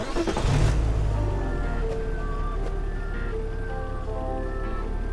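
Car driving in a road-trip video game, heading to a carnival: a steady mid-range engine hum with a louder surge at the start, then a continuous drone with faint tonal game sounds over it, no talk.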